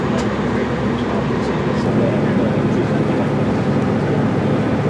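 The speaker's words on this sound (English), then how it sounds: "Now travelling back to Oxford on board class 165, 165, 135 again for the third time." A British Rail Class 165 diesel train travels on the Didcot to Oxford line, heard from on board as a steady, loud rumble and rolling wheel noise with faint higher rattles.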